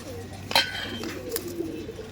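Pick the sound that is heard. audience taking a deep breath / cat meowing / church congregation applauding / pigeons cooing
pigeons cooing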